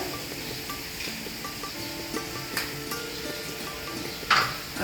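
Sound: ginger-garlic paste added to cooking chicken, sizzling

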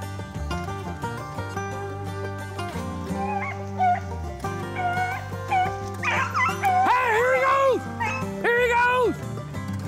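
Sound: hunting dogs barking during a rabbit hunt

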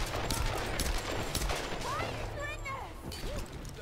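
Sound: gunshots fired in Tomb Raider video game

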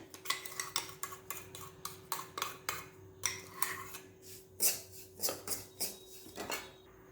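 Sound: stirring and sautéing in pan

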